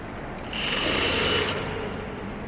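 A sewing machine stitches down an elastic waistband on beginner pull-on pants, a short close whirring run of rapid stitches that starts abruptly, holds for about a second and then eases off, with no talking.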